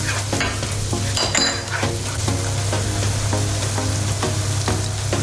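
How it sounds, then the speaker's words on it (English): Garlic, ginger and onion mix frying in a pan, a steady close sizzle broken by regular scraping strokes of a spatula stirring, with a low hum underneath and no speech. "So I'm cooking well the garlic and onion mix"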